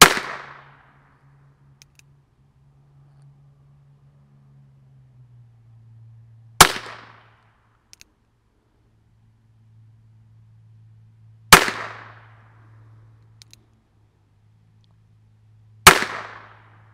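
Four sharp, isolated shots from a North American Arms .22 Short mini revolver fired at an outdoor target about 7 yards away, spaced several seconds apart over a low steady hum.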